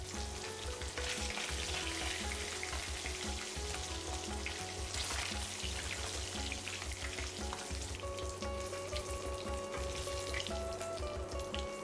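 Pieces of rohu fish fry in hot oil with a dense, continuous crackling sizzle that stays close and steady throughout, with no one speaking.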